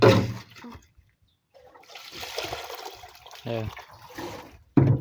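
Water poured out in a splashing rush, stopping and starting in a few bursts, close by, with brief voices at the start and end.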